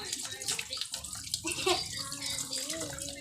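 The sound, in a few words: washing hands under running tap water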